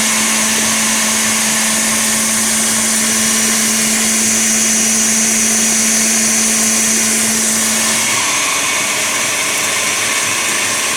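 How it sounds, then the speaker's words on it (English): An electric mixer whipping egg whites for nougat, a loud, steady motor whine with a constant pitch that shifts slightly near the end and runs alone without a break. "Turn those egg whites up. It's okay that this isn't quite ready yet. The egg whites are mixing."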